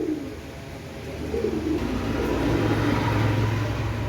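Pigeons in a pet loft cooing softly over a steady low hum of background noise, with no voices.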